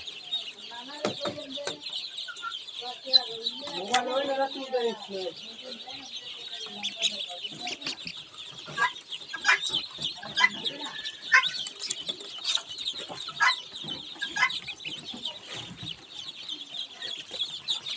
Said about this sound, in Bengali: এই বেলজিয়াম হাঁসের বাচ্চা, সাদা বাচ্চাগুলা বেলজিয়াম হাঁসের বাচ্চা